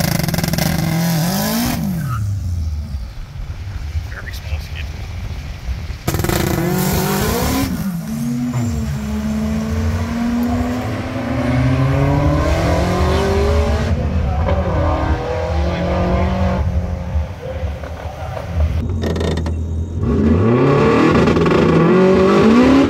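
Drag car at a road trip drag challenge at Palmyra, on tires not yet fully scrubbed in, launching hard and revving through repeated loud rising gear sweeps with tire squeal, close and continuous throughout.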